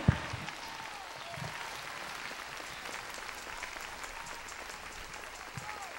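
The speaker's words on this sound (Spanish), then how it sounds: "Denle un fuerte aplauso a Jesucristo con ánimo" A church congregation applauds, with continuous, moderately loud clapping spread across the room and a few louder close claps and thumps.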